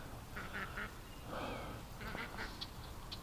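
Free-range ducks quack repeatedly in short clustered calls, faint and somewhat distant over steady outdoor background noise.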